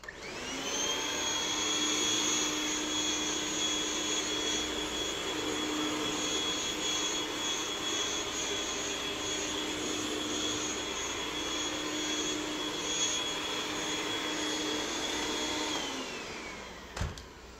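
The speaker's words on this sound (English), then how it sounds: "keep that sprayer moving" A disinfectant sprayer runs steadily while spraying a couch, a continuous loud whirring hiss with a high whine that holds for about sixteen seconds, then cuts off with a click.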